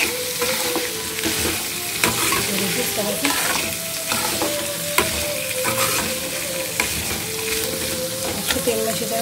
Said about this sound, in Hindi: इसको तेल में अच्छी तरह पकने के लिए छोड़ देंगे 2 मिनट के लिए